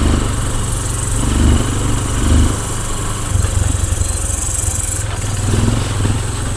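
A motorcycle engine runs steadily while riding, a loud close drone with slight rises and dips in pitch, no voices.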